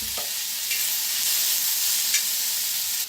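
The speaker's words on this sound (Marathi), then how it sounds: "तेल वतून भाजून घेऊया" Grated coconut and chillies roasting in hot oil in a pan, a steady close sizzle and crackle with a few soft scraping stirs, no voices.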